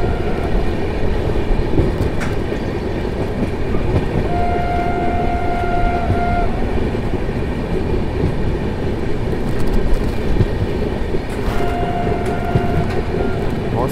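Janshatabdi express train 12079 running on rails between Bangalore and Tumkur, heard from inside as a steady loud rumble with rhythmic clatter, brief horn-like tones in the background and some faint voices.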